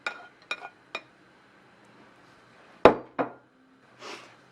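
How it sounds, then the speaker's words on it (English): Ginger, onion and chili being stirred in a pan for Mongolian crispy beef, heard as a few sharp metallic clinks and scrapes of a utensil against the pan, spaced irregularly, close by and with no talk. "And just give that a good little stir around."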